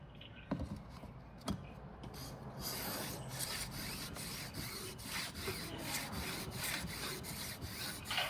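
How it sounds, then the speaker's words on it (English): A reed knife blade clamped square against a guide is sharpened with steady back-and-forth rubbing strokes on a stone, close and continuous, with two sharp knocks near the start and no talk. "sharpen until you get a slight burr on the top"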